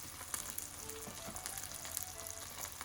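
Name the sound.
tomato sauce bubbling with onions in pot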